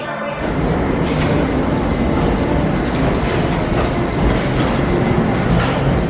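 A PATH train runs toward WTC with a steady, loud rumble of wheels and track noise, heard from nearby and continuing unbroken throughout.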